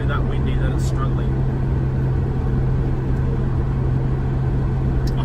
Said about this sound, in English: I'm not sure if my car is dying as we're speaking or it's literally that windy that it's struggling